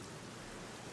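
Steady rainfall in the 1980s-set Black Mirror video game, a soft continuous hiss of drops heard alone at low volume throughout.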